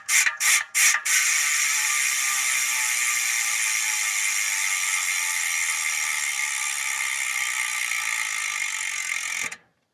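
A Zipp 303 XPLR bicycle wheel's freehub gives a few quick buzzing bursts, then a sustained, even ratcheting whir as the wheel spins freely, close and loud, stopping abruptly near the end.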